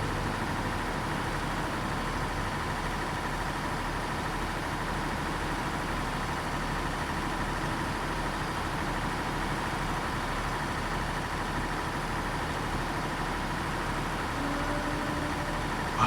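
Pacific P12 truck engine on all-terrain tires in a driving game, hauling a big trailer up a long hill without downshifting; a steady, continuous low drone holding constant throughout, no talk.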